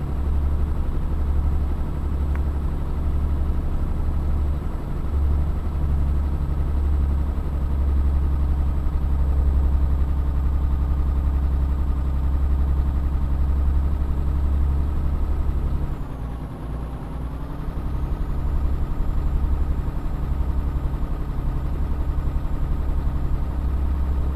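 Mercedes-Benz Actros truck with an 800-horsepower engine hauling a 55-ton oversize convoy: a steady, loud, low diesel drone that dips briefly and then recovers, with no voices.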